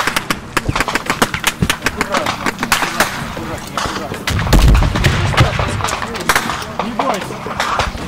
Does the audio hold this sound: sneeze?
no